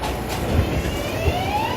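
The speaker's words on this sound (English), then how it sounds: "Got that train right next to me, all 143s." Train of 143-series cars rolling right alongside on a rainy day, a close rumbling clatter with periodic wheel thumps and a faint rising squeal of wheels on rail, without talk.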